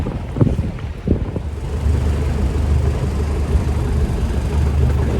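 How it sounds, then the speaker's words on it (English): Sailboat underway down the Intracoastal Waterway on an overcast day, with a steady low rumble of water and wind buffeting the microphone, a few brief knocks near the start, and no talking. "we're gonna keep on sailing and keep on sailing down the ICW"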